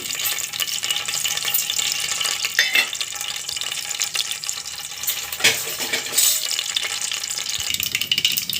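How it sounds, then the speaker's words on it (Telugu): Mustard and fenugreek seeds sizzling in hot oil for sambar, a close, steady frying hiss with scattered crackles and a few knocks and scrapes from stirring. "ఆయిల్ బాగా హీట్ అయిన తర్వాత ఆవాలు మెంతులు వేసుకోండి"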